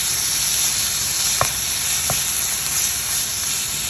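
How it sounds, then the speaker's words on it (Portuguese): Chicken breast sizzles in a pan with garlic and onion, a loud, continuous hiss broken by two sharp ticks near the middle. "agora nós vamos adicionar o peito para dar uma fritadinha nele"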